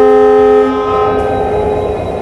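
A WDP 4D diesel locomotive hauling the Kota–Hisar train sounds a loud, sustained multi-tone horn, close and steady, with rumbling engine noise beneath as the horn note shifts partway through.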